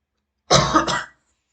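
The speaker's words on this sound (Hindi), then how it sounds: "खांसी आ रहा है मुझे" A single harsh cough, close and fairly loud, splitting into two quick bursts, with silence before and after.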